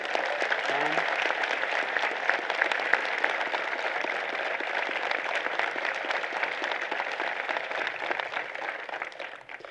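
A large convocation audience at Trent University applauds the founding president in a sustained, dense roar of clapping that holds steady for nearly ten seconds before easing off.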